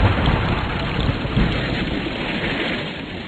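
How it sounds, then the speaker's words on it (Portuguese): Heavy rain pours steadily in a thunderstorm, a dense hiss with low thunder rumbling beneath it and no voices. "um grande trovão"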